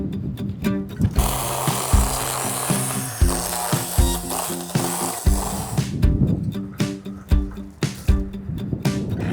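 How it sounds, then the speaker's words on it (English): A small chainsaw buzzing in bursts through a sprouting stump, loud and close, its motor pulsing and bogging under load with brief pauses between cuts. "it gives me an excuse to bring out my little chainsaw again"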